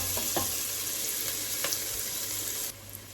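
Ingredients for Jamaican curry mutton cooking together in a pot, a steady loud sizzle and frying hiss with a few scraping stirs, the sizzle easing slightly near the end.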